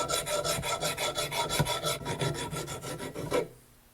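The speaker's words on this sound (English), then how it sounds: "I'll put the file to it here and just kind of take the roughness off on it." A hand file rasps across a metal spindle from a Case garden tractor to smooth rough spots, making about fifteen quick, rhythmic back-and-forth strokes up close before stopping, with no talking.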